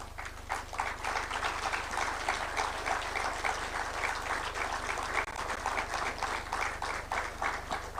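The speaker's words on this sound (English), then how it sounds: "rise so that you can give them an applause and acknowledgement" Applause from a seated audience at a symposium at KICC, Nairobi, as guests rise to acknowledge ambassadors and diplomats; a steady spread of clapping at moderate distance over a constant low electrical hum.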